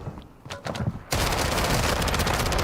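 Gunfire in a Warzone Resurgence video game match: a few scattered shots give way to a loud, sustained burst of rapid automatic fire.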